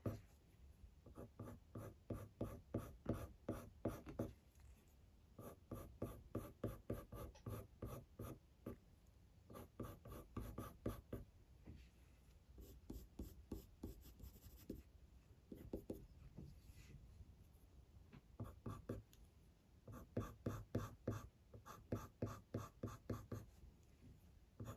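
Coloured pencil scratches across paper with hard pressure while shading the dark fur of a spaniel drawing, in quick close bursts of short rhythmic strokes separated by brief pauses.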